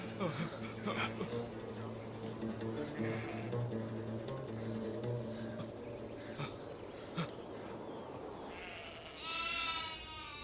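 Sheep bleat in a dramatized pastoral scene, with wavering calls repeating over several seconds amid background noise and people speaking nearby.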